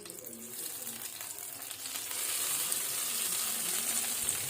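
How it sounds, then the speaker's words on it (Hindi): Hot tadka tempering is poured over kadhi curry, a soft sizzle and hiss that swells about halfway through and holds steady, close and fairly quiet. "अब हम इसको करी के ऊपर डालते हैं।"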